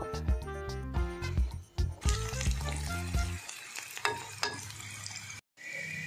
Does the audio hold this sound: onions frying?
yes